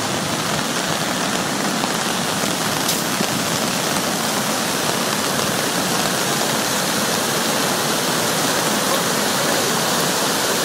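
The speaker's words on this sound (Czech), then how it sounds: "Vodopády Krka ve Chřibské." Krka waterfalls in Chřibská during the 2010 flood, a loud, dense, unbroken roar of pouring water that stays constant from start to finish.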